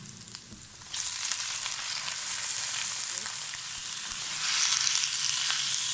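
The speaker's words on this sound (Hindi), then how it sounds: "अब मैं इसके अंदर चिकन ऐड कर दूँगी" Chicken added to a pan of sautéed garlic-ginger paste for green chicken karahi breaks into a loud, steady sizzle after a quiet first second, frying on continuously and close with no talking.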